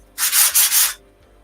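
A wood dowel's edges being sanded by hand, three quick close rasping strokes run together in under a second, then quiet.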